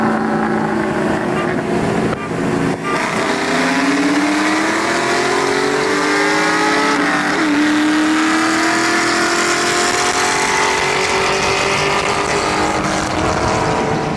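A Ford Mustang 4.6-litre four-valve dual overhead cam V8 revs hard to high RPM, its loud, sustained roar climbing steadily in pitch and holding near the top end with a brief dip partway through.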